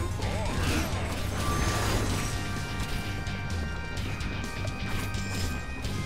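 Grinder traps chew through orc enemies in Orcs Must Die 2: a dense, continuous clatter of crashing, whacking mechanical impacts and grinding metal at moderate level, with steady tonal game music underneath.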